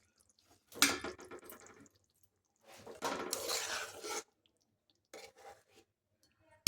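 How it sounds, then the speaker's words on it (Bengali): Hot water is poured into a pan of egg curry masala in two separate splashing pours, close and fairly loud, followed by a few faint dribbles in a quiet kitchen. "এখন এর মধ্যে দিচ্ছি গরম জল।"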